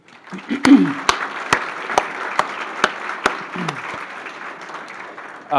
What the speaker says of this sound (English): I think it would be appropriate to give them another round of applause, if you don't mind.